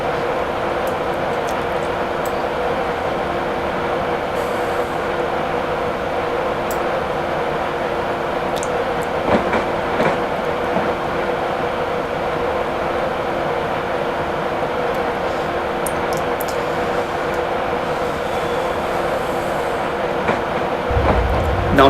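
A train runs along the line in the game Train Simulator 2017, giving a steady, unbroken rumble with faint clicks and a few brief squeaks, heard alone with no talking.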